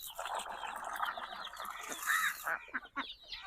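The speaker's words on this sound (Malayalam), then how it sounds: "ആവശ്യത്തിന് താറാവുകൾ അടിപൊളി നല്ല സൈസായിട്ടുണ്ട്" Domestic ducks in a farmyard, quacking and calling in irregular bursts at moderate distance, with other fowl clucking among them and a little low background noise.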